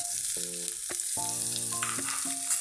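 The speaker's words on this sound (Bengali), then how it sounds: "এটাকে আমি ভালো করে একটু ভেজে নিচ্ছি" Grated garlic and chopped onion fry in hot oil in a pan, giving a steady high sizzle throughout, with a few short tonal beeps sounding over it.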